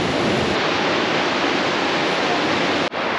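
A waterfall in Bariloche, Argentina roars as a dense, steady broadband rush at close range, loud and unbroken, with a brief dip near the end.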